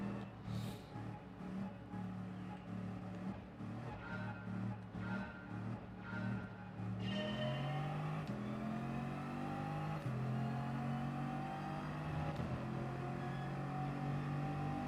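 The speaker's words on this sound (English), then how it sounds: "That car is fast." A racing car in a video game sends out rapid throttle blips, then a sustained engine rev that climbs through gear changes, loud and close throughout.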